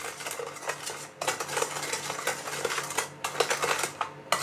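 A metal spoon clinks and scrapes against a bowl as it presses and stirs fermented bean curd for a crispy deep-fried pork belly marinade, making busy, continuous close tapping with brief pauses.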